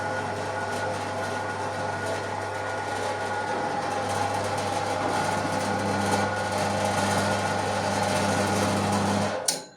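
A STALEX band saw machine runs with a steady, fairly quiet motor hum and a constant whir, holding level for nearly ten seconds before it cuts off abruptly at the end.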